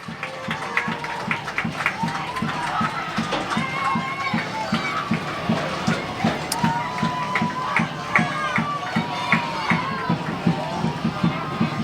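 A soccer crowd at FC Monmouth vs. Kingston Stockade after a late goal keeps up loud, rhythmic chanting over steady drum beats. A commentator's voice runs over the noise.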